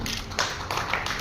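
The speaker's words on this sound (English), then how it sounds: "A round of applause for Mr. Babu." Audience applause at an award ceremony: a brief burst of clapping from a crowd, moderately loud and alone.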